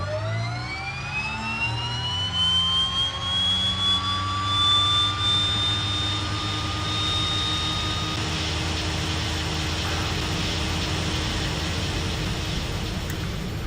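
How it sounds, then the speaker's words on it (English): Turboprop engine number 1 of a Twin Otter spooling up in a flight simulator, with a rising whine that climbs steadily in pitch over the first several seconds and then settles into a loud, sustained, steady drone, with no voices. "let's see what's going to happen if we start up engine number 1"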